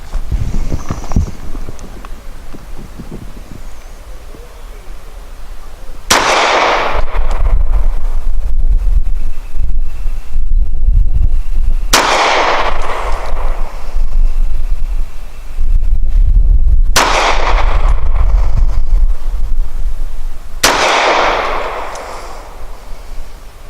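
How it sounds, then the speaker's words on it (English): A Springfield XDe 9mm pistol fires Nosler 124-grain match ammunition from 7 yards, with sharp, loud reports a few seconds apart, each ringing off briefly over a constant roar of wind on the microphone. "5 shots from 7 yards. I'm going to use the Nosler match grade handgun ammunition, 124 grain"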